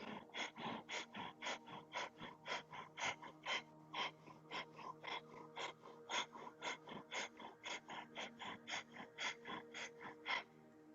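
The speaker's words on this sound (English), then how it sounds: "continue with breath of fire" Breath of fire during a yoga practice: rapid, rhythmic forceful exhalations through the nose, steady and close, repeating about twice per second throughout without any talk.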